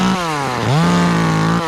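A chainsaw engine whines loudly and close up while trimming tree branches, dipping briefly and then revving back up to a steady high drone.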